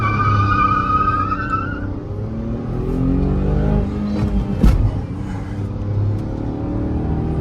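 A Tata Punch and a Tata Tiago accelerate hard side by side in a drag race, with a loud, close engine roar climbing through the gears, a brief tyre screech, and steady rumble throughout.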